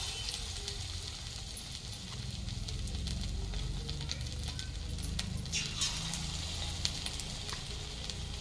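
Cauliflower pieces coated in gram-flour batter are frying in hot oil for pakoras, with a steady close sizzle and bubbling that runs without a break the whole time.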